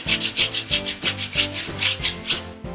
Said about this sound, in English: We just took some sandpaper.